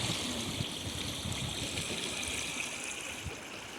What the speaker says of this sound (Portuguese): A zoada da água